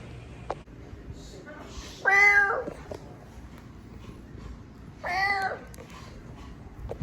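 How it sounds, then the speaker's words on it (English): A house cat meows twice, two clear, drawn-out calls spaced about three seconds apart, standing out close and moderately loud above a low, steady indoor background. "You're a good kitty, Edmund the cat."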